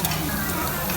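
Seafood, including oysters, sizzling on a Korean-style BBQ grill at an unlimited samgyup and seafood restaurant, a loud, dense, continuous crackle heard up close.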